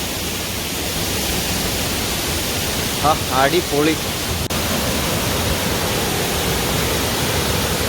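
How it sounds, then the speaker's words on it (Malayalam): Mankayam waterfall in Brimore, Trivandrum, Kerala, pours as a steady broadband roar filling the whole clip, with a man's short exclamation briefly heard over it. "ഇതാണ് വെള്ളച്ചാട്ടം."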